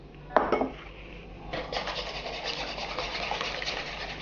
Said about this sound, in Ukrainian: До яєць додати сіль і все перемішати.